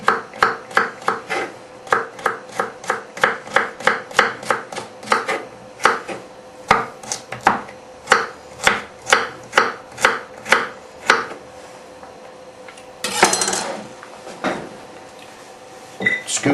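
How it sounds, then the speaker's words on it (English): A knife chops vegetables on a cutting board for homemade soup, a long run of sharp, evenly paced knocks up close with a brief scraping sweep near the end before a few more cuts. "Cut that half into about 3, maybe 4, just depending on how big it is"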